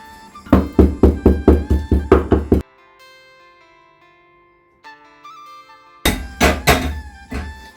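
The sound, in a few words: black peppercorns pounded in a mortar and pestle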